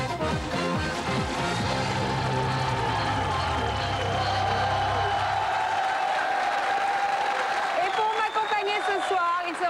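A large television studio audience claps and cheers loudly and continuously, a dense wash of applause with music or voices swelling underneath.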